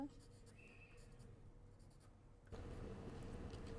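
A pen or marker draws a seam line on a paper dress pattern for an evening dress with dropped shoulders, a faint continuous scratching stroke close by, with some background noise rising near the end.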